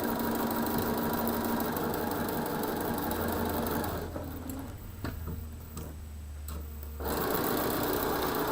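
A sewing machine stitches quilt blocks, a steady close whirring hum with a fast ticking needle rhythm that pauses briefly midway before running on again, with no talking.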